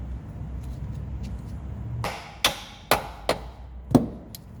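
Four or five sharp metallic taps of a small tape-wrapped hammer driving out a Mazda Miata door pin ring out at uneven intervals over a low background hum, close and distinct.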